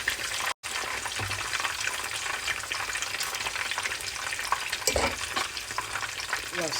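Fish fries in hot oil for a Senegalese thieboudienne, a dense, even crackling sizzle heard up close with a brief dropout and a few stirring scrapes near the end, no voices.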